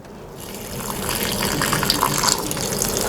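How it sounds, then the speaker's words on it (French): Water pours steadily from a watering can into the dry soil of potted plants, each set on its saucer, making a continuous close gushing splash that builds slightly and never pauses. "je vais pouvoir leur donner de l'eau petit à petit"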